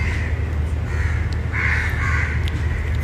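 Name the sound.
birds calling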